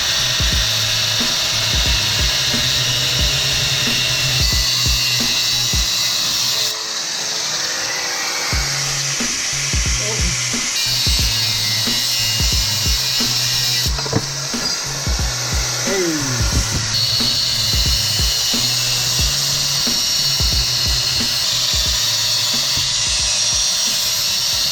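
Grinder stripping paint off metal coil-pack brackets being cleaned for welding, a loud continuous whine running steadily throughout with brief dips in pitch and load as the tool is pressed and lifted.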